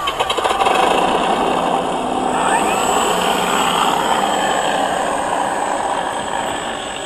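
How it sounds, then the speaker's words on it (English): The motor of a Carbon Z T-28 RC model plane starts up close by, spools up with a rising whine, then holds a loud, steady buzzing drone. "Engine on."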